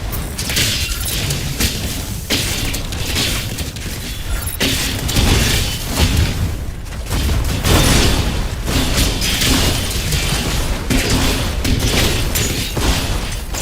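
Incoming fire and explosions in the mech combat game Mecha Break: a dense, continuous barrage of booms, thuds and mechanical clatter that stays loud and busy throughout, with no talking.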